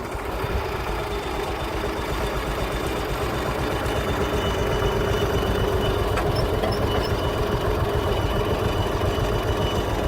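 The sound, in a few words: Hokuriku diesel locomotive train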